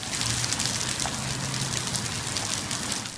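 Heavy summer rain falls during a West Virginia storm, making a loud, dense, continuous hiss of drops on surfaces that holds steady throughout, with no voices.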